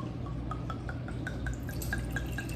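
Red wine poured into a glass, a close, steady liquid splashing with repeated small drip-like plinks over about two and a half seconds, no talking.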